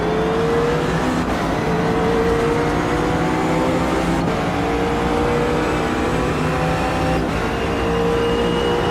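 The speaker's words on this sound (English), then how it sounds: "I'm really liking the McLaren in this, sound-wise. I think it's the best sounding GT3 car so far, at least in AMS." McLaren GT3 race car engine in the Automobilista 2 sim, a steady loud drone with rising and falling pitch sweeps as it works through the gears, continuous throughout with no talk.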